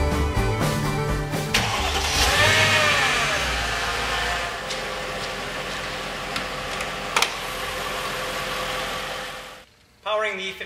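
A Mercedes-Benz E55 AMG sedan's 5.4-liter supercharged V8 starts and settles into a loud idle, with a voice talking over it before it cuts off near the end.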